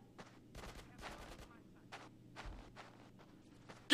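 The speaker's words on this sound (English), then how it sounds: "Get some suppressing fire in there!" Scattered bursts of gunfire in Grand Theft Auto San Andreas, several short volleys spread through a busy combat scene with low background rumble and occasional voices.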